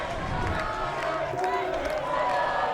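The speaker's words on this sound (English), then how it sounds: "The celebrations from the crowd here." Crowd cheering and celebrating at a women's U-24 ultimate frisbee bronze medal match between Canada and Great Britain, a steady roar of voices with commentary over it.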